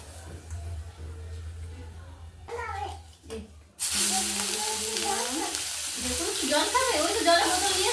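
Food sizzles loudly in a hot pan after someone talks briefly, the frying hiss continuing steadily with voices over it.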